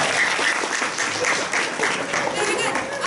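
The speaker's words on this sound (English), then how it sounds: "You're going to show them with your applause" An audience at an improv comedy show at a fan convention breaks into applause, a lively, continuous burst of many hands clapping with a few cheers mixed in, loud and close throughout.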